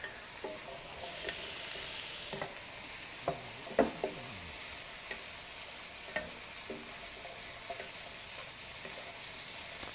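Shrimp paleo stir-fry sizzles softly in a pan while being stirred, with scattered scraping and clinking utensil knocks over a quiet, steady frying hiss.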